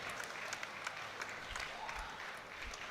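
A standing crowd at a European equipped powerlifting championship claps in dense, continuous applause, a steady patter of many hands at moderate distance with a few sharper claps throughout.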